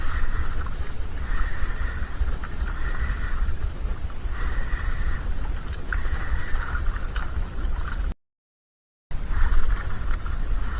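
Fishing line whirring off a reel under a strong strike, repeated buzzing bursts over steady wind and water noise, with a brief gap of silence.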